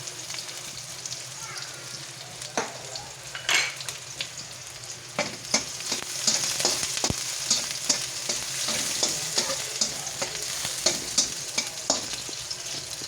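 Onions and other ingredients fry in oil in a pan with a continuous crackling sizzle. Sharp scraping clicks from stirring sound up close throughout.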